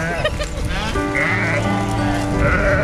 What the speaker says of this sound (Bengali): এই দেখুন কুকুরে কেমন তাড়া করছে ভেড়া, দেখুন